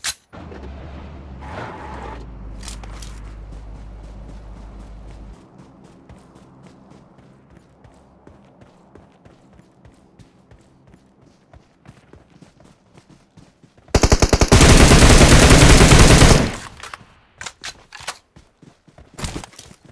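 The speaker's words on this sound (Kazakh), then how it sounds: "Жатып гранатамен атып жатыр ғой біреу." In a PUBG Mobile duo-versus-squad match, a low rumble from a grenade opens the scene, followed by scattered distant shots and then a loud, sustained burst of close automatic gunfire lasting a few seconds.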